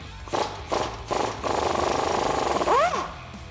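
An impact tool with an 18mm socket on a Jeep Gladiator JT track bar nut, loosening it in short rattling bursts and then one longer run, close and fairly loud.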